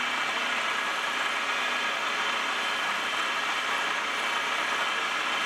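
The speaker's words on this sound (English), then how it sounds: "Small cutter, I'm running high RPMs" A horizontal milling machine spins a small cutter at high RPM, giving a steady, continuous mechanical whir with a hissing edge that stays even and fairly close throughout, with no talking.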